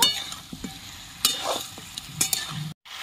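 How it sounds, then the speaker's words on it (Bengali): Chicken sautés with cumin and chilli powder, a brief close sizzle broken by scraping and clattering strokes of a spoon in the pan, with no voices. "এক চামচ জিরের গুঁড়ো দিয়ে দিচ্ছি, সামান্য একটু লঙ্কার গুঁড়ো। ভালো করে সব কষিয়ে নেব।"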